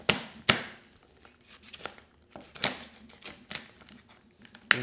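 A cooked lobster head being split lengthways with a knife on a board, giving a handful of sharp, crisp cracks and knocks at irregular intervals with quieter scraping between them, close up and without speech.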